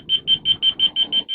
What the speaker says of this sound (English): The Center for Auto Safety wants all RVs to be equipped with propane alarms that ring when there's a leak,